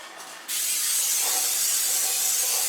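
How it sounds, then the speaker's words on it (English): A sudden, steady hiss of cooking spray onto a baking pan starts after a brief pause and continues evenly for a couple of seconds, close up. "Spray your pan."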